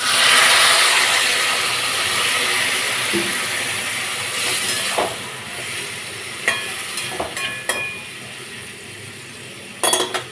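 Water poured into a hot pan of spiced bitter gourd curry with ginger paste erupts into a loud hissing sizzle that gradually settles, followed by intermittent clinks and stirring sounds, with no talk.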